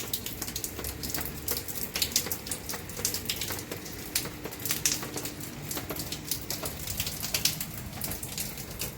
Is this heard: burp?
no